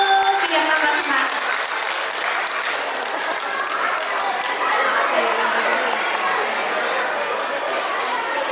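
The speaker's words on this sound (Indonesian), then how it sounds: "jangan lupa tepuk tangannya dulu biar tambah semangat" An audience at a school musical drama performance claps steadily and loudly throughout, with crowd chatter and a few voices mixed into the applause.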